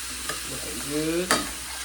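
Rice with tomatoes and a little Polynesian flavoring being stirred in a hot pan, a soft scraping sizzle with a brief clack of the utensil against the pan partway through.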